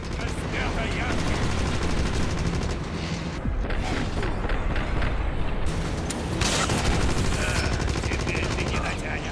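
Dense, sustained gunfire from the 2009 shooter game Wolfenstein, rapid overlapping shots and bursts filling the whole stretch at a loud, steady level with mechanical clatter mixed in.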